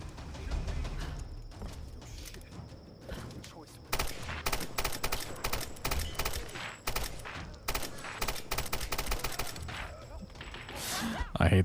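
SMG fire in Tomb Raider (2013): fast rattling bursts, sparse at first and then dense and sustained with short gaps, close and sharp, over a background of game noise and some talk.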